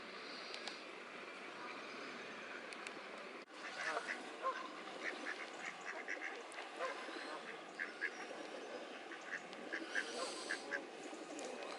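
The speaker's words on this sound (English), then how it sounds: "Someone's just fed the Canada geese, so they're out in force" A large flock of Canada geese at a park pond honks continuously from a distance, a dense chattering wash of calls with occasional louder honks.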